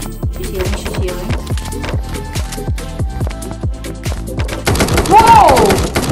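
Video game gunfire: rapid, steady bursts of loud shots repeating many times in quick rhythm, with a sharp whistling effect near the end and speech faintly mixed in.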